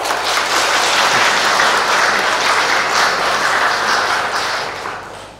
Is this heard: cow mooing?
no